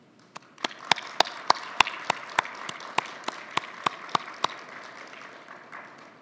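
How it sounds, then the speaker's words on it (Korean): Audience applause at an address on artificial intelligence, sharp individual claps rising over a steady wash of clapping, then thinning out into a softer patter toward the end. "세계를 향해 성큼성큼 나아가고 있는 여러분께 격려와 감사의 박수를 보냅니다"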